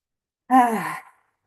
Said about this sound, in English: Let's exhale loudly.